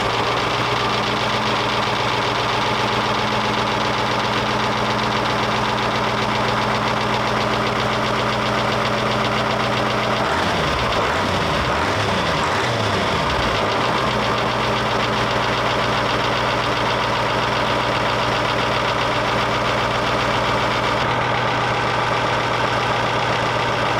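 A StuG III Ausf. G tank engine runs steadily and loudly throughout with a constant, throbbing idle. About halfway through, a brief rise in revs makes a wavering rumble before the engine settles back to its even drone.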